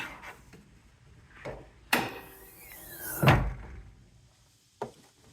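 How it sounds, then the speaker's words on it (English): A few mechanical clicks and thunks, then a sharp metallic clunk and a louder latch release with a creak as a 2008 Infiniti FX35 hood opens, close by and otherwise quiet. "We'll go ahead and open the hood"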